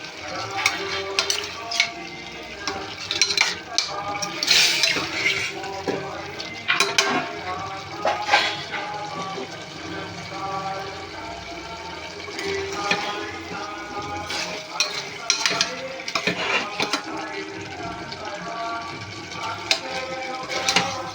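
Mutton curry with garlic and eggs sizzles and simmers in a pan as its water cooks off, while a spoon scrapes and stirs in bursts, with occasional clinks of metal against the pot.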